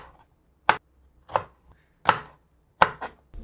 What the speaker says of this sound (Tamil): வெங்காயத்தை வெட்டிக்குவோம்